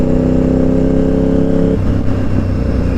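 A two-stroke motorcycle engine revs loudly close by, a steady buzzing drone that shifts and drops in pitch partway through before carrying on.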